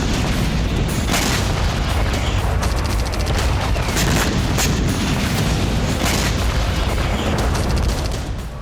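A dense, continuous barrage of booms and bursts from drone strike explosions in Russian cities, loud and unbroken throughout, with sharp cracks scattered over a rumbling roar.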